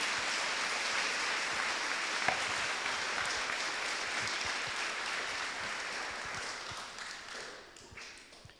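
A church congregation applauds at a Catholic Mass, a steady wash of many hands clapping at moderate distance that holds evenly and then thins and fades toward the end.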